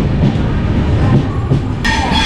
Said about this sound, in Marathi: सकाळचे 8 वाजलेत आणि गाडी आता ठाणे स्टेशनवरून पुढे निघाली.